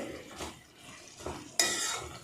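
Spoon strokes stir chicken gravy masala with added chilli powder in a pan, a few soft scraping passes with light sizzle and a sharper clank near the end, quiet and close with no talk.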